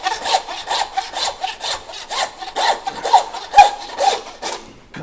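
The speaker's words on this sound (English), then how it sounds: "and then just use our handsaw." A handsaw cuts through the ball joint of a dry-aged beef sirloin in quick, even back-and-forth strokes, close and crisp, about ten rasping passes with no talking.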